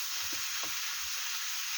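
Ground meat sizzles in a hot pan with no oil added, a steady close hiss of frying with faint soft stirring taps beneath it.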